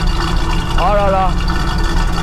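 Deep, steady engine burble from a 1969 Chevrolet Camaro SS in exceptional condition, running continuously at a fairly loud level, with a short tonal whine rising briefly in the middle.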